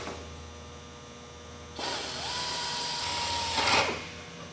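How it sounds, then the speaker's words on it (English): A power drill whines up for a couple of seconds, rising in pitch as it bites into sheet metal, then stops abruptly, with a faint hum beforehand. "drilling all 8 holes"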